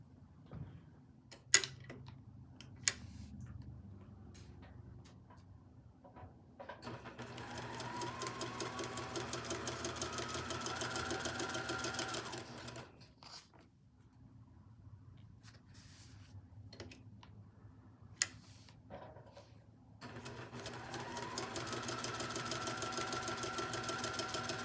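A sewing machine stitches quilt fabric squares to rectangles in two long steady runs of rapid mechanical whirring, separated by quiet handling pauses and a few clicks, close and without talk.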